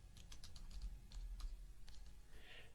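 Soft keystrokes tap on a computer keyboard in a short, irregular run, faint and close against a quiet room.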